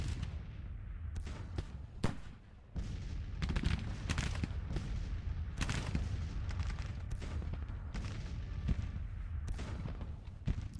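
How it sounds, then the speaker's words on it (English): Civil War-era artillery and massed musketry roar in the Grand Tactician strategy game, a dense, continuous barrage of booming reports and sharp cracks layered over a heavy low rumble, with no voices. "So our guns here have opened up, so they must be in range, which is nice."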